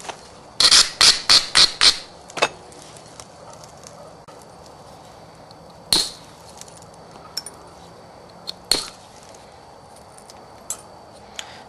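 Stone percussor striking a stone biface to detach large flakes: a quick burst of six sharp clacks, then scattered single knocks, close and loud with no talk.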